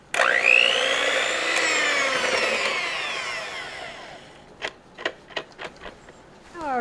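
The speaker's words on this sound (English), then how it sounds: "So I'll use an electric mixer on it in a few minutes when the butter gets melted a little more." An electric mixer creams butter and sugar for a bourbon sauce served with Southern bread pudding, its motor whining loudly and sliding up and down in pitch for about four seconds before a series of sharp knocks and clicks.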